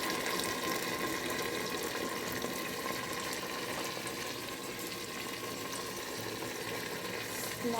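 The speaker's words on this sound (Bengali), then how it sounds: "জল দিয়ে দিচ্ছি," Water pours steadily and continuously into a pan of katla fish being cooked for boiling, a dense, close hissing splash that fills the whole stretch with no pauses.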